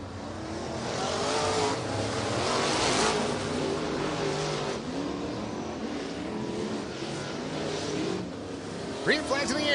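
IMCA Modified race cars roar around a dirt track at a Nipomo, California points race, engines droning loudly and continuously with a track announcer talking over the noise.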